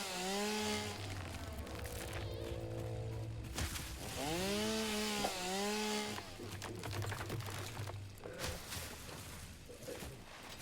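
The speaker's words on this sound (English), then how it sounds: "The neighbors are out mowing the garden." Neighbors mowing a garden with a lawn mower: a steady, low motor drone runs throughout, with rising and falling whining tones layered over it at several points.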